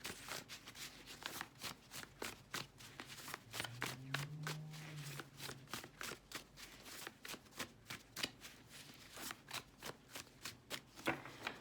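Index cards being shuffled for a card reading, a steady series of quiet, crisp riffling taps close by, with a brief low hum partway through.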